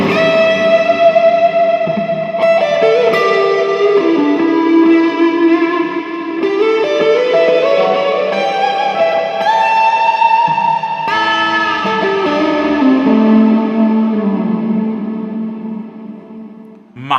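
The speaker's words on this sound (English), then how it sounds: "Massive cavernous reverb, kind of pointless but kind of fun, right?" Electric guitar played through a Bob Burt reverb pedal stacked with a Bob Burt OD overdrive, sustained distorted notes and chords blooming into a huge cavernous wash of reverb, loud and alone with no talking.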